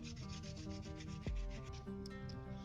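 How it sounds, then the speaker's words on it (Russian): A small piece of P240 sandpaper wrapped on a block sands a plastic eyebrow trim for a Renault Laguna 2 headlight flat, giving a steady close rubbing and scraping with one brief louder thump partway through. "через брусок, чтобы была плоскость ровненькая, и шлифуем по плоскости."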